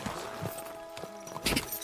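A horse's hooves clip-clop at a walk in the video game Kingdom Come: Deliverance II, an irregular series of muffled thuds layered under ambient game sound and music.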